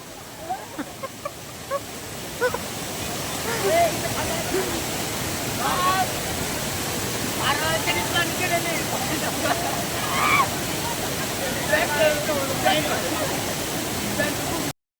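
Water rushes continuously at the Girzani waterfall, a broad roar beneath intermittent talking and shouts.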